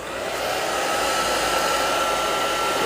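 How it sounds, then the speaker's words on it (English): A hair dryer blows steadily at close range over a watercolor painting, a continuous loud whooshing hum with no breaks and no voices. "I'm gonna hit this with my hairdryer real quick."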